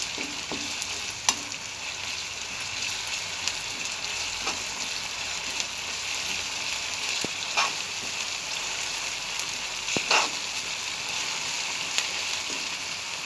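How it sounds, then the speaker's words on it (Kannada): Green chilli paste fries in a pan while making chickpea usli, a continuous close sizzle with occasional light stirring clicks and scrapes, steady throughout, with no talk. "ಈಗ ನಾನು ಅದಕ್ಕೆ ಹಸಿ ಖಾರ ಹಾಕ್ಕೊಂಡಿದ್ದೆ ಅದನ್ನ ಸ್ವಲ್ಪ ಫ್ರೈ ಮಾಡ್ಕೊಳ್ಳೋಣ"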